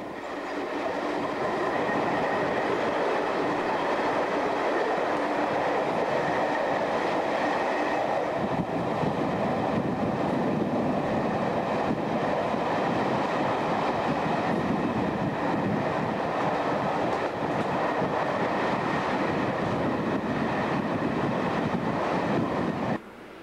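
A train passing through Clapham Junction in 1991, a loud steady rumble of wheels and carriages rolling close by for over twenty seconds, with a brief shift in tone partway through and no voices.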